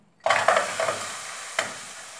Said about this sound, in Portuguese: primeiro a gente coloca um pouquinho de, de óleo na panela e vamos fritar a linguiçinha.